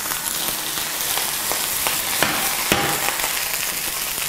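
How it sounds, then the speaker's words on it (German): Pork fillet sears in a hot frying pan, a dense, steady sizzle and crackle filling the whole stretch, with occasional sharper pops and spits. "braten jetzt das Filet in einer Pfanne, die ich hier gerade heiß werden lasse, von beiden Seiten schön scharf an"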